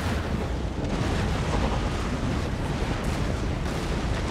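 A ship explodes in a naval battle in the strategy game Empire: Total War, a dense, roaring rumble of blast and debris that runs loud and steady throughout.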